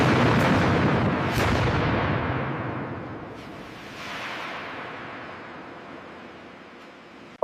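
A missile launch erupts in a loud roaring blast that slowly fades into a long rumbling wash, with a second softer surge midway and a sharp click at the very end.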